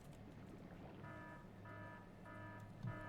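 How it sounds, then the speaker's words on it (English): An alarm in the video game Factorio signals a machine that is not working, beeping in repeated short electronic tones, three evenly spaced pulses over a low background hum. "So what if I hook it up to an alarm that sounds every time it's not working?"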